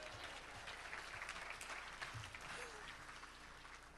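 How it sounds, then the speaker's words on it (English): Banquet audience at a Riverfest Commodore dinner applauding, a steady wash of many hands clapping in a room, moderately loud and continuous for the whole stretch without clear speech. "Let's give Steve a nice round of applause"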